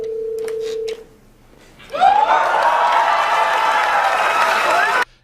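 An audience breaks into applause and cheering after a short electronic tone and a moment of quiet. The crowd's noise stays full and sustained for about three seconds, then cuts off abruptly.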